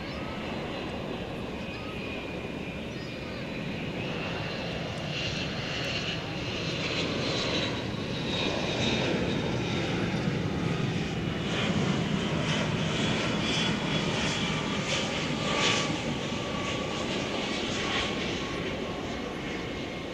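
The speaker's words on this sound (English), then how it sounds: "Here comes the 757 UPS from Houston Intercontinental." A UPS Boeing 757 jet approaches DFW Airport at night, its engines a steady, broad roar that swells gradually toward the middle and holds loud and fairly near throughout.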